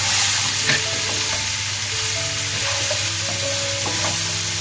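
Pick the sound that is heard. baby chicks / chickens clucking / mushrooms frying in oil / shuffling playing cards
mushrooms frying in oil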